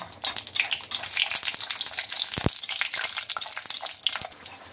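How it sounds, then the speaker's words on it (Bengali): Lentil dumplings (bori) made with fish and lentil frying in hot oil, giving a steady close bubbling sizzle dotted with small pops and crackles, with no voices over it. "তেলে দিয়ে দিচ্ছি, তেলটা গরম করে নিয়েছি। এখন প্রথমে আমি বড়িটা ভালোভাবে লাল করে ভেজে নেব।"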